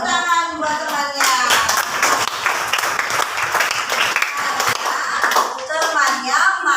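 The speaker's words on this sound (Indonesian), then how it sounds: "Tepuk tangan buat temannya." Schoolchildren in a classroom clap together loudly for a classmate during a fractions multiplication lesson, a brisk burst of many small hands with children's voices chattering over and around it.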